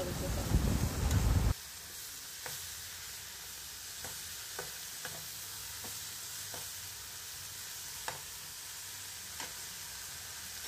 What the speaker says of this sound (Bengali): এখানে লাল লাল করে আমি এখানে ভেজে নিচ্ছি